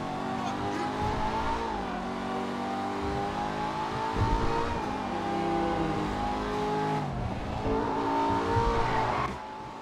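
The ETR 1 race car in GTA 5 Online roars loudly, revving up and down through gear changes, rising in pitch then dropping, continuous and close for about ten seconds.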